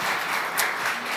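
A church congregation applauds briefly, a soft, diffuse patter of clapping heard at some distance and slightly muffled.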